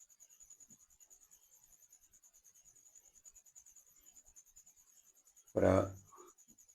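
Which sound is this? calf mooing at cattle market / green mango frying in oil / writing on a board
writing on a board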